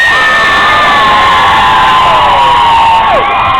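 Loud, sustained cheering from a packed pub audience at a live music gig, a continuous roar of whoops and high shouts that carries through the whole stretch without letting up.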